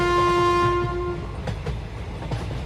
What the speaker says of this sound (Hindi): ये ट्रेन चली जाती है